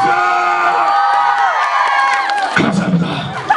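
Audience at a Korean film stage greeting for 'A Company Man' with So Ji Sub erupts in loud, sustained cheering and whooping, a dense crowd roar that shifts in tone partway through.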